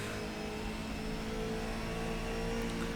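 A Howston G4 race car engine at Spa in rFactor 2 holds a steady, loud drone as it pulls through the gears, a continuous mid-pitched whine with no voice over it.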